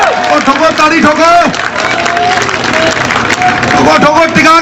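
A large crowd at a Congress political rally applauds and cheers steadily throughout, with a voice calling out over the clapping.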